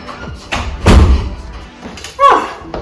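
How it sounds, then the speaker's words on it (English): A bedroom door in a French apartment swings shut with a solid thump, followed by a sharper knock or latch click a moment later, close and fairly loud against a quiet room. "Let me close the door as well."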